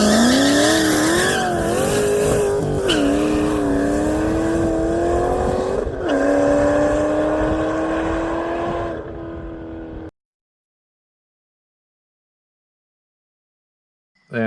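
A Ford GT500 with the drag pack makes a no-prep drag pass, its engine roaring hard and climbing in pitch as the rear tires spin and squeal for about ten seconds, loud and close, then dropping into silence.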